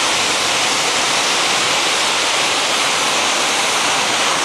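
Floodwater on the Apple River rushes through Apple Canyon as a loud, continuous broadband roar, steady and close with no pauses.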